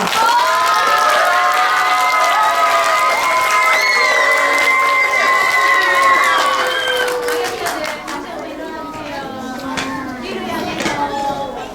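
Children cheer and clap together as an audience applauds young student speakers at a third-grade school fair, a loud, sustained burst of high voices for about six seconds that then fades into scattered chatter and claps.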